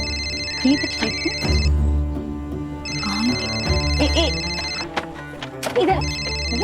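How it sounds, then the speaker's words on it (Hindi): A mobile phone rings with a repeating electronic tune in several bursts separated by short gaps, heard indoors at moderate volume. "इधर हाँ, काजल का फोन"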